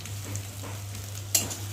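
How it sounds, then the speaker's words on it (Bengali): Eggplant frying in a pan with cumin paste and ginger paste added, a low steady sizzle running throughout, close and moderately loud, with a brief sharper burst of hissing near the end. "বেগুনটা ভালো ভাজা হয়ে গেছে আর এখন এর মধ্যে আমি দিয়ে দেবো জিরে বাটা আর দেবো আদা বাটা"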